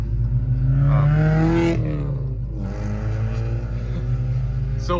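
An R/T car with an aftermarket cam, tuned to run on E85 fuel, revs up loudly with a rising engine pitch, then drops back to a rough, lumpy idle with its low exhaust rumble close by.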